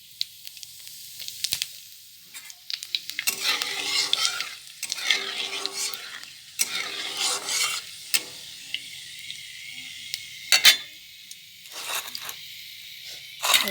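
Dried red chillies and panch phoron sizzle and crackle in hot oil for a village chicken curry. Crisp frying bursts come and go, with stirring scrapes and sharp pops in between. It is close and moderately loud, with no talk.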